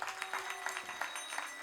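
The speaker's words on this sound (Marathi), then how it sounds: "एकदा दोन्ही पक्वाजांसाठी टाळी वाजवा." Audience clapping for two pakhawaj drummers at a devotional kirtan, a brisk burst of hand claps with slightly uneven rhythm, fairly close and alone, lasting under two seconds.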